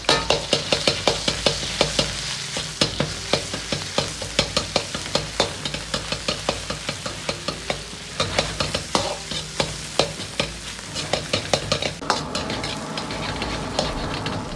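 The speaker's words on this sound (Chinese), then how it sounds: "然后下入肉末煸炒出香味" Minced meat stir-fried in scallion oil in a hot wok for mapo tofu, with a steady sizzle under rapid, rhythmic scraping strokes of the spatula throughout, close and fairly loud.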